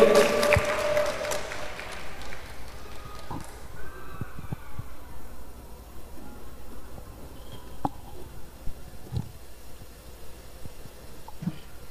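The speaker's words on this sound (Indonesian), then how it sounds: "Beri tepuk tangan yang meriah." An audience at a seminar applauds a guest speaker as he is introduced, a brief burst of clapping at the start that quickly thins out into a quiet room with scattered small noises.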